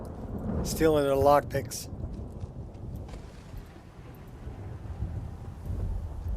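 Rain and thunder in the video game Skyrim: a steady wash of rainfall with a low, rolling rumble underneath. Someone talks briefly near the start, then the storm carries on alone.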